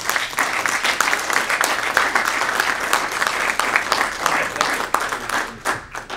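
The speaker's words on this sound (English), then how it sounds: "So please give him a big round of applause." An audience at a pinball expo speaker session in Vancouver breaks into sustained applause, a dense wash of many hands clapping steadily for several seconds before starting to fade.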